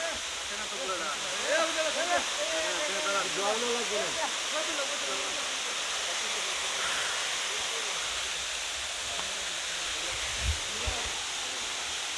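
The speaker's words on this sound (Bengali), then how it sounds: "আমি একটু দেখাচ্ছি, এই সেই ঝর্ণা।" A remote forest waterfall in the hills roars steadily in a broad, constant rush; someone speaks over it early on, then the water continues alone.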